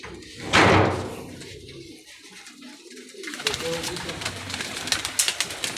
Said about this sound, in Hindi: ये उस्ताद अली के बहुत अच्छे सुर्खे कबूतर हैं।